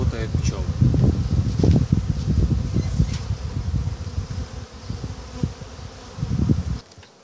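Honeybees buzz at a hive after a queen is introduced, in irregular surges, close and droning, with rustling handling noises and a voice speaking underneath.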